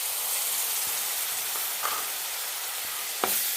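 Tomato paste frying in a pan with chilli powder, garam masala and turmeric for a rohu fish and cauliflower curry gives a steady close sizzle, with a few faint clinks of stirring.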